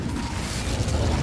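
A burst of fire from an Incendio spell in a Harry Potter video game, a short, dense roar of flame that holds steady and loud for about a second.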